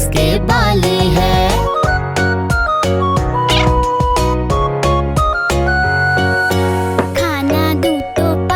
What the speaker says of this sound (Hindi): बिल्ली मैंने पाली है